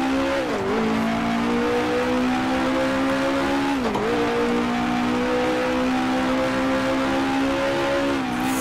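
A simulated 1966 Formula One car in Grand Prix Legends runs on a steady, loud engine note that holds at high revs, with two brief dips where the driver lifts off before it climbs again. No one speaks.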